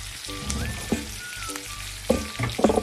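A steak sizzles and fries steadily in a hot pan, a close, constant crackling hiss with occasional spatters and brief tonal beeps over it.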